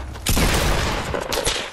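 Gunfire in a chaotic Fortnite 50 v 50 match, a dense burst of loud shots lasting the whole moment with a second volley near the end.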